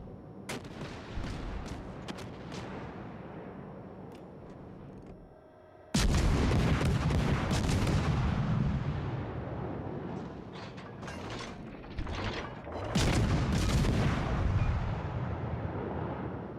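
Heavy naval gunfire from warships in World of Warships Legends, with big booming salvos that land around six and thirteen seconds and rumble on between them, alongside smaller cracks and distant blasts throughout.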